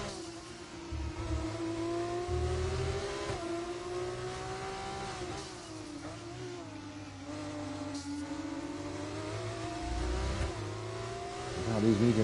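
An F2 race car engine in a racing video game, a loud, continuous high-revving whine that rises and falls with gear changes, with a brief louder surge near the end and no audible talk.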